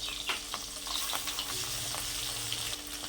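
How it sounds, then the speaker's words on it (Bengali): Tangra fish sizzle in hot mustard oil with a continuous crackling hiss, punctuated by several soft clicks and spatters, close and moderately quiet. "সর্ষের তেলটা একটু ভালো করে গরম দিয়ে আমি লাল লাল করে ভেজে নিই।"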